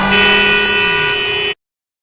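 A loud, sustained car horn blares steadily for about a second and a half, then cuts off abruptly into silence.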